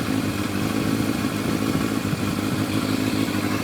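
A motorcycle engine runs steadily at idle during a carburetor synchronization, a continuous close, even drone with light mechanical clatter and no speech.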